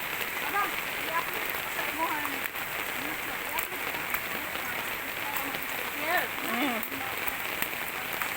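Steady rain patters on a surface in a dense, even hiss, with people talking and calling out now and then under it.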